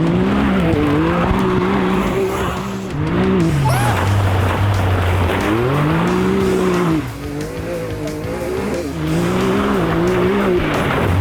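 A radio-controlled buggy drifts and skids outdoors, its high electric motor whine rising and falling in loud sweeping arcs as the tires scrub and squeal across the ground, continuous and close.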